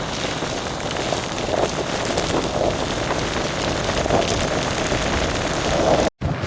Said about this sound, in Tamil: புயலும் காற்று மழையும் அப்படி அடிச்சு கொண்டு இருக்குது